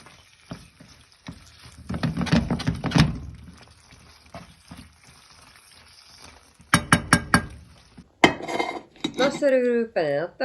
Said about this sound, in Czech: Naserviruj penne na talíř.